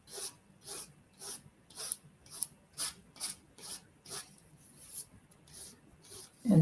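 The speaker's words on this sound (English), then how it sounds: "And now I'm just going to kind of rub it" A fairly dry StazOn ink pad is rubbed and pressed firmly around the edges of foil, giving steady, evenly spaced scrubbing strokes, about a dozen in a row, close and alone.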